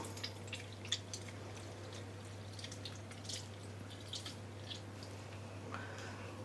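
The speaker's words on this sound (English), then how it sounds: "I'm just squeezing out excess water." Water drips from squeezed wet yarn skeins: scattered soft drips and small wet squishes patter irregularly over a steady low electrical hum, quiet and close, with no voices.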